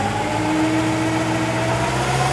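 New Holland TL-90 turbocharged diesel tractor running with the PTO engaged, a loud, steady engine drone with a constant tonal hum and no change in pitch, heard close up without any voices.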